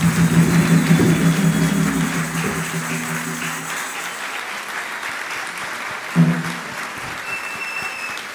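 Loud applause with a low drum-like tone underneath, fading into lighter, steady clapping that continues to the end, with a brief swell near the close; applause follows an Afro-Brazilian batuque performance at a medal ceremony.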